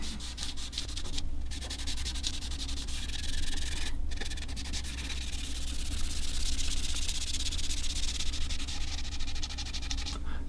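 A guitar top with wooden binding is sanded back by hand, a steady close rasping rub with short pauses between strokes, alone and without talk.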